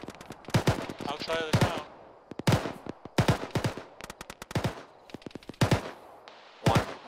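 Gunfire in a military video game, loud bursts of rapid automatic shots that repeat in sharp clusters with short gaps between them, while a voice speaks over the radio.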